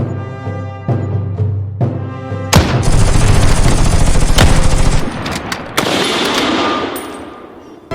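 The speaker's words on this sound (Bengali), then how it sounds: "তরুণের বন্দুক থেকে পরপর কয়েক রাউন্ড গুলি চলে" A gunfire sound effect: a low droning hum gives way to a loud, sustained burst of rapid gunfire, followed by further sharp shots and echoing booms.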